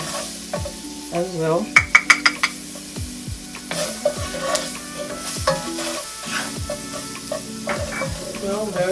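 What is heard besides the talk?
garlic and shrimp curry sizzling in pan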